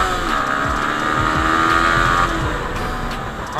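A Yamaha R15 V3 motorcycle races at full throttle, its engine loud and close with a rising, strained whine and heavy wind rush that holds steady before easing slightly.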